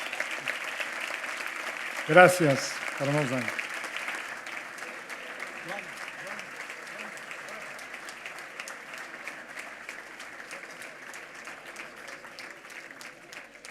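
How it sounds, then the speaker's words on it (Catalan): An audience at a national gastronomy awards gala applauds the kitchen team with sustained clapping throughout. A voice speaks briefly over it early on, and the applause stays steady and fills the room. "us demanaria és un fort aplaudiment per a l'equip de cuina que han treballat dur"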